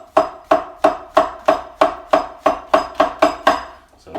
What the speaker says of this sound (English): cut up the mushrooms quite finely.